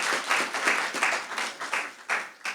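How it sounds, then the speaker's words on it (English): Audience applause at a payments system launch event, a moderate burst of many hands clapping with an uneven rhythm, close and continuous for a couple of seconds, with no talking. "I think he deserves a round of applause."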